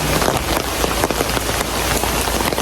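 Steady rain pours at a riverside hotel on the Mekong in Khong Chiam, Ubon, a dense, loud, even patter of drops hitting surfaces with no pauses.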